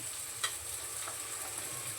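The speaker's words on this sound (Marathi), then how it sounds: "थोडंसं फोडणीमध्ये मी ती कोथंबीर टाकते" Steady, faint sizzle of coriander frying in hot tempering oil, a continuous crackling hiss with a soft clink near the start.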